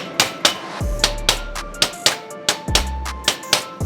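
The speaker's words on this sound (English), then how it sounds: "I'm just gonna take the hammer and lightly hammer it in on each corner" A hammer lightly taps metal pieces into place at each corner during TIG welding prep, giving a steady series of sharp, close metallic knocks about every quarter second, with a low hum underneath.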